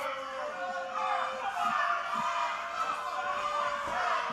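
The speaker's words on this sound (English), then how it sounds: "Sounds like the crowd here's not happy with that, with Carson and with Chalance and Guitari" Wrestling crowd at an OVW TV event reacting against the heels, a sustained mass of crowd voices and jeers at moderate distance, steady throughout.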